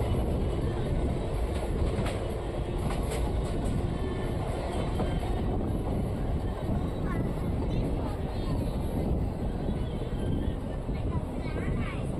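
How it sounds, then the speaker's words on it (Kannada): The Sheshadri Express pulling out of Tekkal railway station after a two-minute halt, heard from on board as a continuous loud rumble with rattling and faint clatter, with voices murmuring underneath. "ಎರಡು ನಿಮಿಷ ಹಾಲ್ಟ್ ನಂತರ ನಮ್ಮ ಟ್ರೈನು ಟೆಕ್ಕಲ್ ರೈಲ್ವೆ ನಿಲ್ದಾಣದಿಂದ ಹೊರಟಿದೆ"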